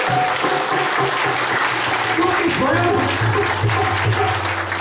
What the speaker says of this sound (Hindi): इसके लिए आज स्वयं अपने लिए एक बार जोरदार तालियां बजाएं।